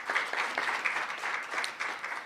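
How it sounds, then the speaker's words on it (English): Applause from the audience at an official release of a provisional voters register, steady dense clapping that carries through the whole stretch at a moderate level with no voices over it. "Can we please clap for ourselves?"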